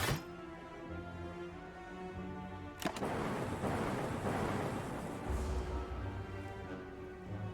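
A lightning attack effect from the Slay the Spire video game, heard as a sharp crack followed by a loud rumbling, crackling burst that fades over several seconds, alone with no talk.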